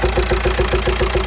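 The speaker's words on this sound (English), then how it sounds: "You can hear the knock now." Rod knock from a VW T5 1.9 TDI engine with worn crankshaft bearings: a rapid, regular metallic knocking beats over the low idle, loud and close, with no talking.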